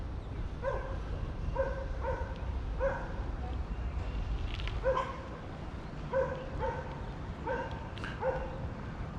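Dog barking at a campsite in Myrtle Beach State Park, with repeated clear barks in short bursts over a steady background hum, moderately near.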